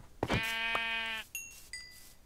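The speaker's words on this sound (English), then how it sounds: "Oh look, another sheep." A Minecraft sheep gives one clear, close bleat with a rich, wavering tone. Two short, faint synthetic blips follow it, and no one speaks.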